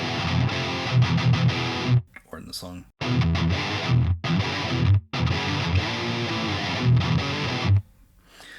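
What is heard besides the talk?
guitar through Neural DSP Omega Ampworks Granifier high gain distortion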